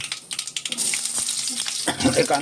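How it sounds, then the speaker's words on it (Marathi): Chopped onions dropped onto cumin in hot oil for Mangalore-Udupi style sambar, frying with a steady close sizzle and some stirring scrapes, with no voices. "आणि त्याच्यावरती हे आपण चिरलेले हे कांदे"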